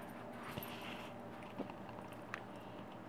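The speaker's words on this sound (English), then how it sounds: "Frankie and Mom are playing behind me" Puppies and their mother dog play at a distance, with faint whimpers and small yips breaking through a low, steady background.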